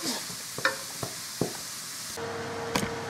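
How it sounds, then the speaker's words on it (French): Squash pieces simmering covered in a pan with a ladle of broth after browning, giving a soft steady sizzle and bubbling with a few light utensil clicks and taps, fairly quiet throughout. "pendant que ma courge est donc en train de cuire"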